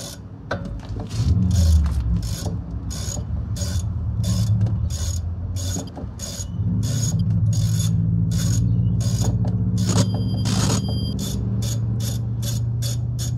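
Ratcheting hex tool loosening a rear brake caliper slider pin on a 2009–2013 BL Mazda 3, giving a steady run of sharp rhythmic ratchet clicks over a low mechanical hum, close and loud.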